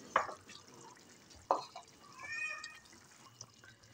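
Spoonfuls of yogurt dropped into aloo matar qeema cooking in a pan make two soft, wet plops about a second and a half apart, faint against a quiet kitchen background.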